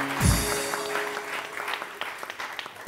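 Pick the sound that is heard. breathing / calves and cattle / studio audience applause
studio audience applause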